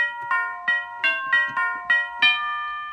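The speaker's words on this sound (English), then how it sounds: "We have some bell sounds." Electronic bell-like tones from a Livingstone DM650 keyboard strike one after another in a steady rhythm, each ringing briefly with a chiming decay over background noise.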